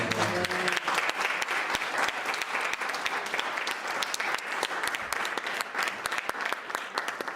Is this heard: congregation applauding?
yes